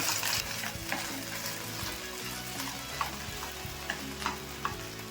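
Okra frying in a pan for a North Karnataka bendekayi chutney, a steady sizzle broken by repeated spatula scrapes and taps as it is stirred, no speech.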